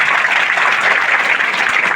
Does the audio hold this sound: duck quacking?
no